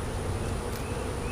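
Honey bees swarm around an open beehive while a beekeeper works supers laden with nectar, making a dense, continuous close buzz that fills the air without pause.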